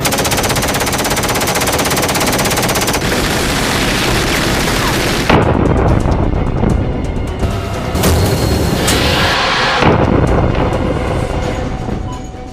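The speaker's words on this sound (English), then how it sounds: "Cleared to fire. Alright, firing." Loud, dense rapid automatic gunfire at a target in an action movie battle, sustained bursts with brief shifts and pauses, close and overwhelming.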